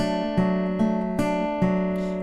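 Acoustic guitar fingerpicking a D-shape chord with the fourth string as bass, four evenly spaced plucked groups ringing close and clear, alone without talk.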